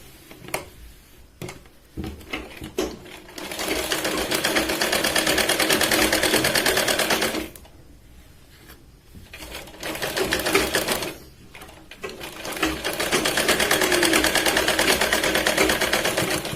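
A sewing machine stitches a katori blouse, running in long steady bursts with a rapid mechanical rattle, pausing briefly between runs, loud and close with no talking.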